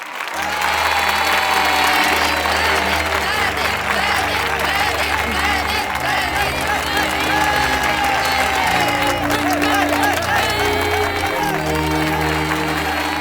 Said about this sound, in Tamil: மாணவர் கதிருக்கு இன்னும் பலத்த கரகோஷத்தை எழுப்பி உற்சாகப்படுத்துங்கள் மாணவர்களே